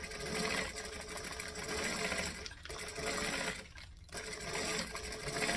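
A sewing machine runs steadily, stitching a fabric seam with a quarter-inch allowance on a zippered project, its motor whirring continuously with two brief pauses.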